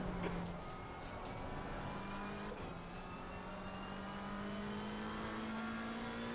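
A GT race car engine in Assetto Corsa Competizione at Watkins Glen drones loud and steady, its pitch climbing smoothly through a long pull after a brief gear change, with no talk.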